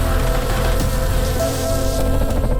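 Honey bees kept outdoors by a young beekeeper in Jaffna, a dense steady buzzing swarm drone that is close and loud and continuous for the whole span, with no talk.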